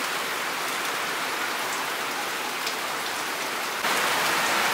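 Heavy rain pours steadily in a dense, even hiss, loud and close, with no voices and a slight swell near the end.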